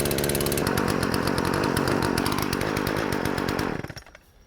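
A chainsaw runs loudly and steadily while warming up outdoors in cold weather, a buzzing, raspy drone close by that cuts off abruptly near the end and fades to quiet.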